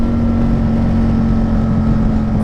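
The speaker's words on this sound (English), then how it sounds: "despite the volume of the exhaust, it sounds really good, especially when you're on it. Nothing like a V-twin" A Can-Am Spyder ST-S with a loud V-twin engine, its exhaust a steady, close, heavy droning rumble with a constant low hum and no pauses or voices.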